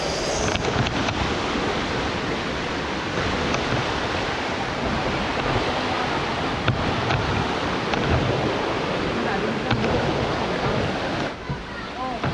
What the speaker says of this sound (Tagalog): kakarating lang namin dito sa Sinapulan Falls